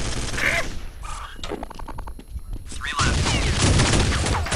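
Shotgun blasts and other gunfire from the Counter Xtreme shooting game mixed in a busy layer of game noise, with players talking excitedly throughout.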